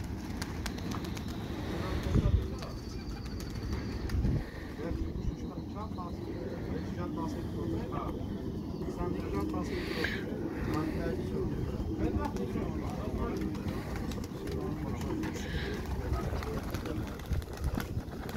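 Racing pigeons at a pigeon competition coo softly amid a busy outdoor scene, with people talking nearby and general background noise throughout.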